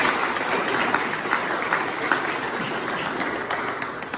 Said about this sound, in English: So I want everybody to give a round of applause.